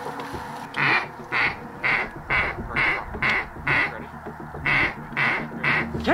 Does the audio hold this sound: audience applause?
no